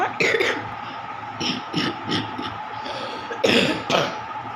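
Several short, close coughs and throat-clearing bursts come in an irregular series over a low background hum.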